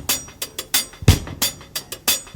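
Punchy, overdriven hi-hat on a tape-recorded drum kit, with a heavier drum hit near the middle; eight or so bright, gritty strikes in a steady groove, close and loud with no talking.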